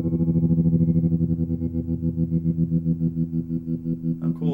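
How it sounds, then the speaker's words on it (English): Open E string on a Fender Jazzmaster through a SolidGold FX StutterBox tremolo pedal, a sustained distorted note pulsing in steady rapid volume throbs, with a brief scratchy pick noise near the end. "I'm just going to hit an open E string and literally just mess around with my speed"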